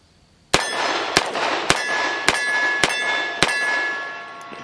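A CMMG Banshee .45 ACP AR pistol, fired without its brace, lets off six evenly spaced sharp reports, each followed by a metallic ring that lingers between shots.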